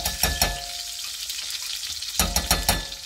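Butter sizzles in a hot pan while trout with orange is being cooked, a steady close hiss with crackling pops that dips briefly midway before rising again loudly.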